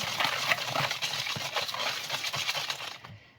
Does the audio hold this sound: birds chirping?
no